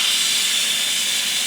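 An Instant Pot pressure release valve switched to venting lets out a loud, steady hiss of escaping steam, close and continuous with no other sound.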